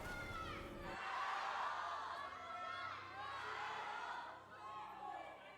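A big crowd at an esports arena for a League of Legends LPL Spring Split match cheers and whoops, a loud, continuous roar that swells and fades, with a commentator's voice underneath.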